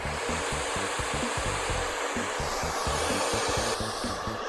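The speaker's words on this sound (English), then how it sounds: "to simulate the wind, I have a hairdryer" A hair dryer blows hard at a Lego Ferris wheel as a stand-in for wind, giving a loud, close, unbroken whir and rushing air with a steady motor hum throughout and no voices.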